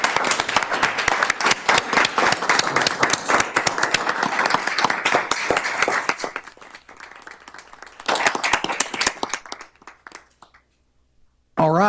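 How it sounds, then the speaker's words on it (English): Audience applause at a healthcare district board of managers meeting: a dense round of close hand clapping for roughly six seconds, thinning out, then a short renewed burst that fades out before a voice returns at the end. "Please join me in a round of applause for Zim Zimmerman."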